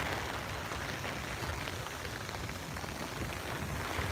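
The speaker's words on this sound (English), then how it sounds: "This rain is really bad." Heavy rain pours down on a New York City street during a rainstorm, with water pooling near a storm drain. The dense, steady hiss fills the scene without letup, loud and close.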